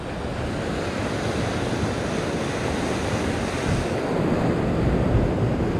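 Ocean waves surge and break against a rocky shore where people fish, heard as a loud, continuous roar of surf with gusty wind noise and a swell near the end, with no talk.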